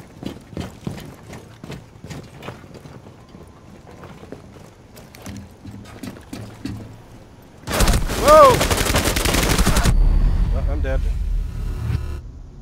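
Rapid gunfire in Rainbow Six Siege on a presidential plane map: scattered sharp shots early, then a loud sustained burst of automatic fire for about two seconds, followed by rumbling noise.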